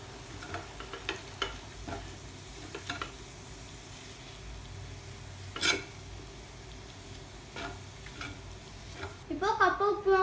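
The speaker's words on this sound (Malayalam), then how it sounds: "കോക്കനട്ടും കറി ലീവ്സും അടി കൊടുക്കാം ഇനി ഇത് മിക്സ് ചെയ്തെടുക്കാം" Tapioca upma with grated coconut and curry leaves gets stirred in a pan: soft scraping strokes and scattered clicks of a spoon over a low sizzle, with a brief louder clatter near the end, close and fairly quiet.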